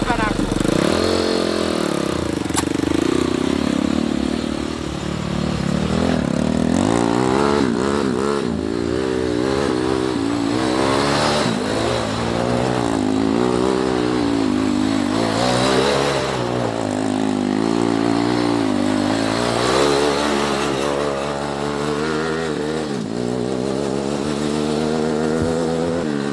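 A turbocharged Barbie mini jeep with a bent axle revs and spins donuts on gravel, its engine note wavering steadily and loudly up and down throughout, with a person talking over it.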